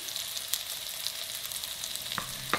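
Shredded leftover cooked chicken going into a pan of frying onions, giving a soft continuous sizzle with light stirring scrapes and a couple of sharper clicks near the end, close but quiet.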